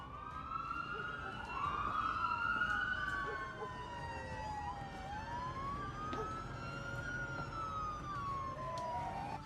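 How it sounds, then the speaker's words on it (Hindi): A police siren wails continuously, its pitch sweeping up and down over steady traffic rumble, loud and fairly close. "पुलिस के सायरन शोर मचाने लगे।"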